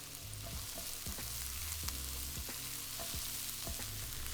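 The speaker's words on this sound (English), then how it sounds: "add a finely diced onion and cook it for 5 minutes, stirring often until softened" A finely diced onion frying in oil in a frying pan over medium heat gives a constant loud sizzle, broken by repeated low scraping strokes as it is stirred.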